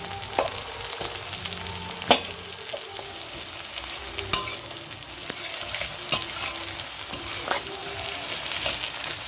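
Whole green chilies frying in hot oil in a pan, a loud steady sizzle broken by sharp periodic scrapes and knocks of a spatula stirring, close and without talk.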